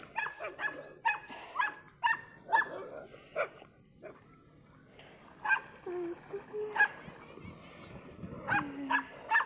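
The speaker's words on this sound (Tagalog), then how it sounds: "ang daming aso" Several dogs bark and yip in quick bursts at the seaside, fairly faint and somewhat distant, with occasional whimpers between the barks.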